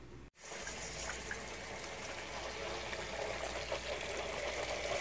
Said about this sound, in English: There it is, filling up with water.